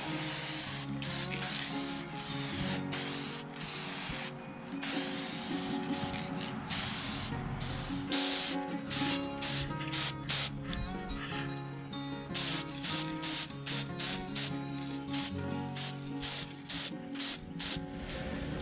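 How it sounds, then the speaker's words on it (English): Bursts of Cryoline Crystal Clear aerosol clear coat hissing onto a wood carving in repeated short blasts, close up, with brief pauses between pumps and faint handling rubs. "I've got this Cryoline crystal clear that I'm going to spray on to set this"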